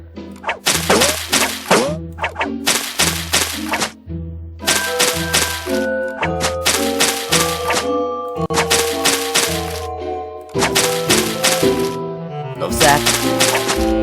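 Rapid bursts of sharp, crackling shots repeat in clusters, mixed with tonal electronic game sounds, loud and close throughout.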